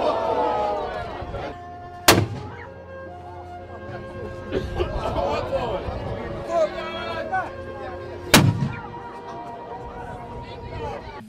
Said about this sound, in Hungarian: Majd a környező várak, Szigliget és Rezi ágyai feleltek a sümegi végvárból felhangzó lövésekre.